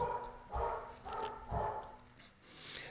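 Several dogs bark in short bursts, roughly one per second, fairly close in a home with no talk over them.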